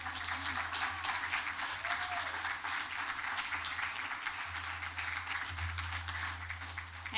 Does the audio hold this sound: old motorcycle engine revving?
no